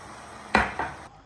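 Rice and hot water going into a cooking pot for Turkish kapuska, heard as a clattering pour with a sharp onset, a second smaller splash-clatter, then settling, close and moderately loud.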